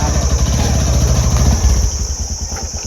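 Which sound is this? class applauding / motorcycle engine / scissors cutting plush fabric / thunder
motorcycle engine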